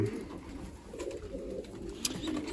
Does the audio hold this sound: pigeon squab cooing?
yes